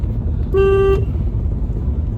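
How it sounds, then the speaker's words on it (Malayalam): A single short car horn honk, loud and close, over a steady low engine rumble, during a beginner driving lesson. "ഹോൺ അടിക്ക്"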